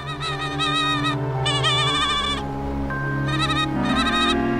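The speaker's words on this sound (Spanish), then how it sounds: "oigo a una oveja balando en medio de un campo de grano" A sheep in a grain field bleats loudly and close by, giving two long wavering cries, then a third after a pause, over a low steady background.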